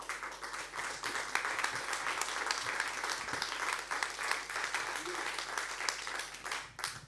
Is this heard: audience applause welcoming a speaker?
yes